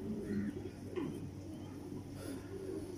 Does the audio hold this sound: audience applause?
no